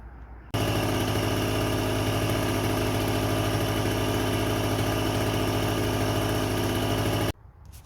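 A portable generator runs in a backyard during a power cut, starting abruptly and droning at a steady, even idle that stays loud and constant for several seconds before cutting off, with no voices.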